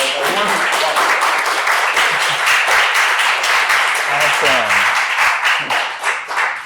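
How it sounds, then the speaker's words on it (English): A lecture audience gives a round of applause for a speaker introduced before a talk on lessons from the AIDS movement; dense, loud clapping fills the whole stretch, with some voices mixed in. "So please join me in giving a round of applause."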